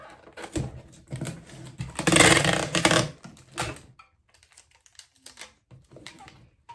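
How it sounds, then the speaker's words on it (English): A tape gun sealing a cardboard shipping package, a loud ripping screech of tape unspooling in the middle with clicks and rustles before and after, close and without talk. "And I go ahead and tape it. And I use a tape gun, so much easier."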